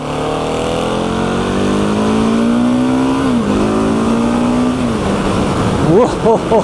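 A Husqvarna 701 ABS motorcycle engine drones close by, pitch climbing steadily as it accelerates, then dipping and revving sharply near the end.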